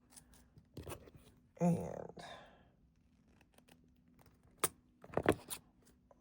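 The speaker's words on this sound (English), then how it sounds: "I'm going to cut my 3 inches of wire, cut 2 pieces" Jewelry wire for earrings snipped with cutters into two short pieces, a few sharp isolated clicks with a brief crinkling rustle between them, close up and quiet, with a word of speech.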